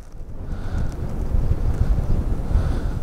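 Gusty wind buffeting a microphone on a mountaintop, a loud low rumble that builds and pulses unevenly, with no voices heard.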